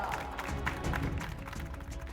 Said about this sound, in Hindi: सर के लिए जबरदस्त तालियां